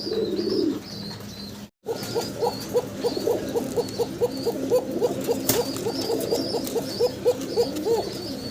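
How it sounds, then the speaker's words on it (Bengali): Pair of young male pigeons cooing in a pot nest at a pigeon sale, a run of rhythmic repeated throaty coos close by, preceded by a brief rustle and a short gap, no talk. "ককার ডাক শুনলেন খুব সুন্দর সুন্দর ডাকাডাই করে"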